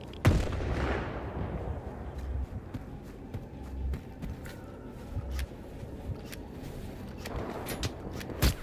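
Gunfire in a video game shooting at the player, fired at night: scattered sharp cracks and bursts over a rumbling, noisy battle background, fairly close, with a heavy hit near the start and end.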